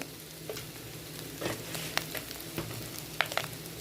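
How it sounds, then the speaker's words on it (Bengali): Fish eggs fry in a pan with chili and coriander powder, a soft continuous sizzle broken by occasional sharp scrapes and clicks from stirring, close and without speech. "ভালো করে নেড়ে চেড়ে ভেজে নেব।"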